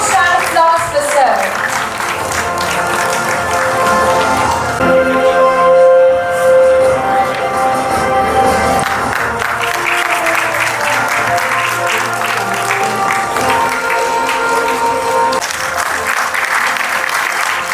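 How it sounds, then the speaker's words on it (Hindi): Applause from the audience fills the hall at the Punjabi Ratan Awards 2025 ceremony in Delhi, loud and sustained for the whole stretch, with music and a voice running beneath it. "A huge round of applause for sir."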